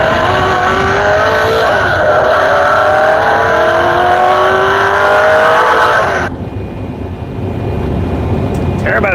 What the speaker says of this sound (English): Turbocharger.